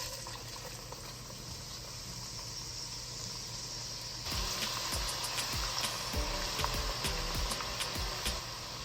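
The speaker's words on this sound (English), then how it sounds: "To my hot oil, I'm going to add some chopped onions" Chopped onions drop into hot oil already used for frying turkey, a quiet simmer suddenly turning into a loud, crackling sizzle that keeps popping close up.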